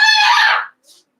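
A pet bird gives a loud, bright call lasting about half a second, followed by a brief fainter chirp, close by with no talking.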